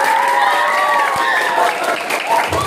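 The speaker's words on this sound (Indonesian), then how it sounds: "Tepuk tangan buat beliau." Applause for a teacher fills a motivational training session at Yayasan Mathla'ul Anwar: steady, dense clapping from a crowd for about three seconds, with some voices mixed into the din.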